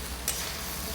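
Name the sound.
leftover rice and raw egg frying together in a pan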